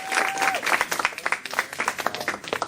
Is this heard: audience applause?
yes